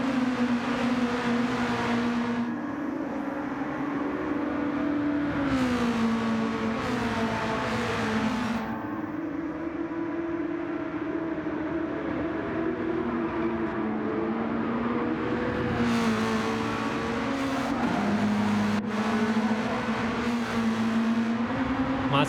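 Race car engines in a racing video game on the Kyoto Driving Park circuit, all on hard-compound tyres: a steady, loud engine drone with rising and falling revs as the cars run close together.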